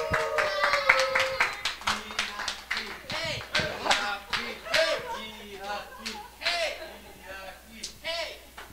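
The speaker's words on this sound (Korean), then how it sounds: "박수로 맞아 주세요." Church congregation at a Sunday gathering clapping to welcome a speaker, with uneven claps mixed with voices and movement, and people talking throughout.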